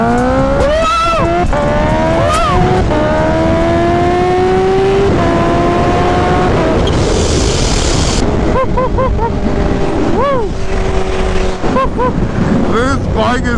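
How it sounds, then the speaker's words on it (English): Kawasaki Ninja H2 motorcycle engine revving loudly and continuously, pitch climbing and falling through sweeps with brief dips, a hiss near the middle, heard close with wind noise throughout. "This bike is insane! Oh, Nina. Just listen to that"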